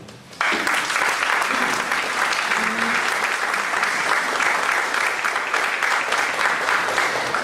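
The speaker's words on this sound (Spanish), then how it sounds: "Felicitamos al doctor Víctor Burgos Mariño, brindándole nuevamente un fuerte y muy merecido aplauso." Sustained audience applause at a talk or lecture, steady dense clapping that starts abruptly after a brief quieter moment and continues loud and even throughout.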